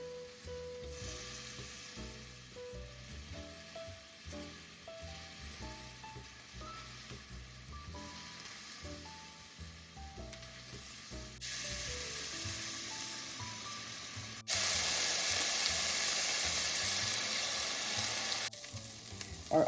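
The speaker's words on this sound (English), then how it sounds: "Our onion is half fried." Thinly sliced onions fry in a pan for a Persian okra stew. Soft melodic music plays at first, then a broad sizzle rises and grows loud and steady toward the end.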